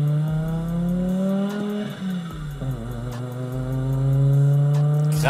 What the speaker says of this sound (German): Der Turbo, Digga.